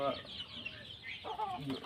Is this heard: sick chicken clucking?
yes